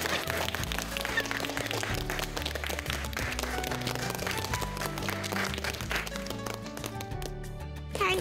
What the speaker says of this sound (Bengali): আমি আমাদের বাড়ির প্রত্যেকের পক্ষ থেকে আমাদের গ্রেট ভূতুর জন্য একটা জোরে হাত তালি দিতে চাই